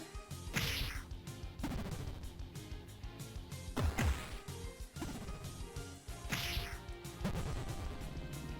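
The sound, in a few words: sword shattering in an RPG video game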